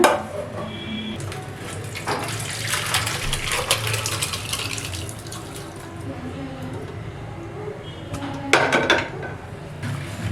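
Cooked gongura dal, pressure-cooked to four whistles, tipped from the cooker into another vessel, with metal pot clanks, scraping and a wet slop, moderately loud and close, ending in a couple of sharper knocks.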